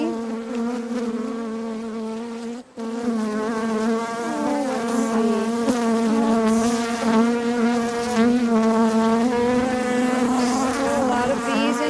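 A loud swarm of honeybees humming inside an open hive as frames are worked, a strong, steady close-up buzz with wavering pitch and one brief dip in level.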